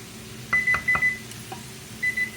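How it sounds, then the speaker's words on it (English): A kitchen timer set for cooking rice beeps in several short, sharp tones, first a quick cluster and then a longer tone after a pause, close and clear over faint room noise. "the timer is for the rice"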